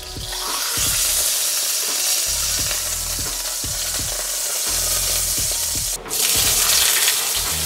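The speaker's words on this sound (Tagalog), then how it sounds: "Kapag na-sear nyo na lahat ng beef shank, ibalik nyo na." Beef shank sears in a hot pan for a bulalo dish, a loud steady sizzle with repeated scraping strokes throughout, briefly dipping near the end before resuming.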